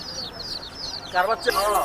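Country chickens cluck and squawk close by in quick bursts at Hemayetpur poultry market, louder calls rising near the end amid busy background noise.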